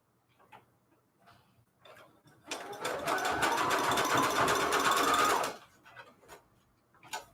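A sewing machine stitches lace and fabric trim in a single close, rapid burst of about three seconds, framed by quiet handling clicks before and after.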